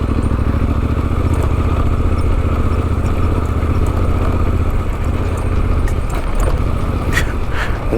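A motorcycle rides along a dirt two-track in Nevada between Austin and Elko. Its engine drones loud and steady throughout, with wind rush and scattered rattles and clinks from the bike near the end.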